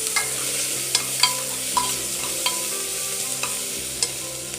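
Ginger garlic paste sizzles and fries in a hot pan, with repeated scraping knocks of a spoon stirring it, close and steady.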